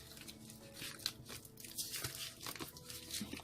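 Tarot cards are shuffled by hand close by, a soft papery riffling and rustling that comes in uneven bursts, faint and continuous with no talking.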